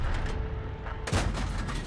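Tank cannon fire in the video game Ace Tanker, with a sudden loud broadband blast cutting in midway over steady game noise and rumble, followed by a sustained booming decay.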